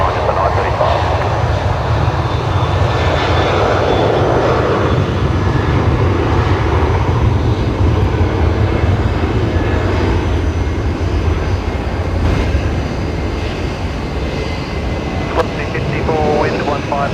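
A Kalitta Air Boeing 747 departs Brisbane Airport, its jet engines producing a loud, steady broadband roar that fills the whole stretch, with voices and radio chatter faintly underneath.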